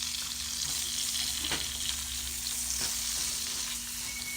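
Shallots sizzle steadily in virgin olive oil in a pan, a continuous close frying hiss with a couple of brief louder spits and stirring scrapes along the way.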